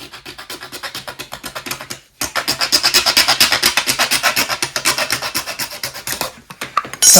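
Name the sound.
cutting the back of an old speaker box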